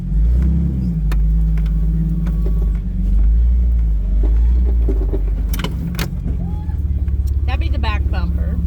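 A car climbs a hill in reverse, its engine a loud steady drone throughout with rattles and bumps, while people talk over it.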